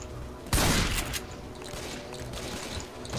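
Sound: gunfire from shooting in the video game Left 4 Dead 2

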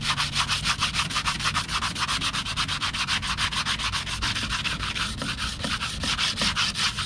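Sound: buffing both sides of a new drywall knife blade

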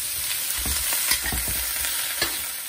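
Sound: bok choy greens stir-frying in a pan

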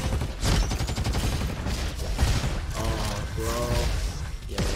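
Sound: rifle gunfire in a roguelite video game

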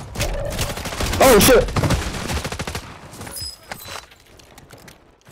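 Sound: shotgun gunfire in a video game

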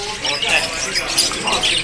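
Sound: jalak rio starling calling at a bird market

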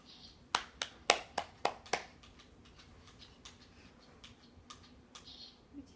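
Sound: child clapping hands

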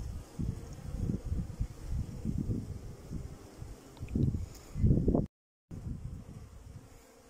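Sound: bees buzzing while being fed honey

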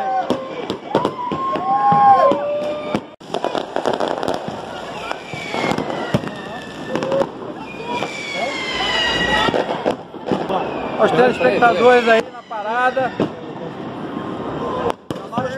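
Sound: fireworks mortar (morteiro) exploding

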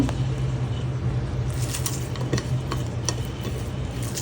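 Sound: mixing a chili mash (bhorta) with onions

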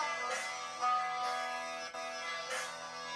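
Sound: harmonica solo from a song, slowed down

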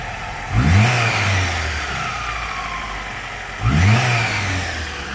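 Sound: Tofaş car engine revving

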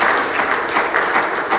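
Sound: congregation clapping hands in church

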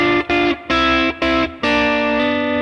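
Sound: guitar blues lick with thirds and hammer-on

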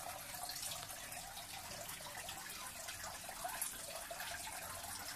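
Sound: water spraying onto Spanish moss

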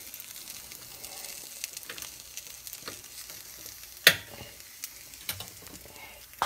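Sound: eggs frying in a pan

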